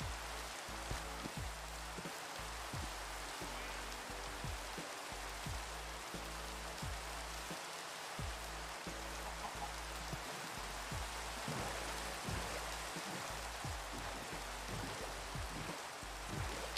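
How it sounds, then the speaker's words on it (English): Heavy downpour of rain in Minecraft, a dense steady hiss with patter throughout, alone and without talk. "like, heavy downpour-like rain."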